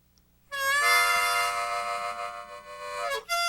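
A harmonica sounds a sustained two-note chord on holes 4 and 5 draw, mimicking a train whistle, starting abruptly, holding steady, then bending down before a brief restart.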